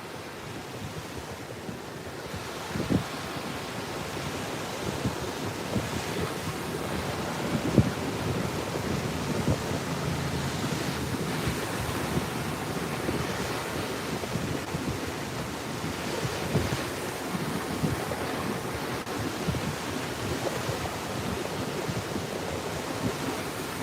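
Surf rolls and breaks continuously along a Padre Island beach on the Texas Gulf Coast, a steady broadband wash with some wind buffeting the microphone and no talking.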